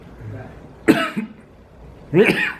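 Two short, sharp coughs sound close by, spaced about a second apart, with quiet background in between.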